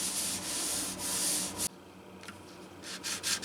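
Hand sanding with 320 grit sandpaper: steady close scrubbing for under two seconds, then lighter intermittent short rubbing strokes.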